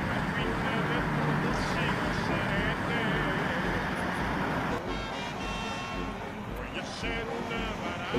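Road traffic on the way into town at Apizaco, Mexico: a continuous rumble of passing cars and a bus with a couple of short horn toots, heard from inside a vehicle while someone talks over it.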